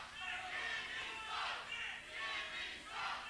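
A wrestling crowd at an NWA Wildside show jeers Jimmy Rave, its noise rising and falling in rhythmic, chant-like swells that sound steady and somewhat distant.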